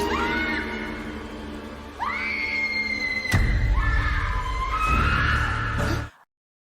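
Woman screaming hysterically in the horror film Ivanna: loud, shrill, rising shrieks come in three long waves with a heavy thud midway, then cut off abruptly into silence.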